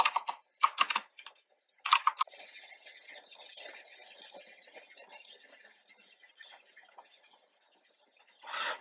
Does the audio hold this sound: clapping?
no